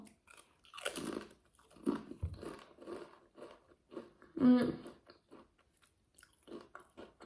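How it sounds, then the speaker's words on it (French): Pringles potato chip being crunched and chewed during a tasting, with sharp close bites followed by a string of crisp chewing crunches in a quiet room. "Nous allons prendre une chips et faire la dégustation."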